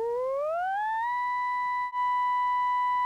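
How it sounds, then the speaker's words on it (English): A Eurorack oscillator produces a clean sine tone that glides upward in pitch and then holds steady, patched ahead of a Tiptop Fold Processor, alone and fairly quiet. "So here's our sine wave."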